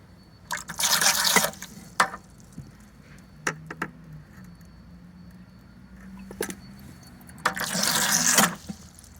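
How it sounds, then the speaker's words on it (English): Water siphoned out of a bucket with a turkey baster while harvesting wild clay in a yard, heard as two gurgling, pouring bursts separated by quieter drips and small taps, close and fairly soft. "I siphoned all that water out of both of these buckets"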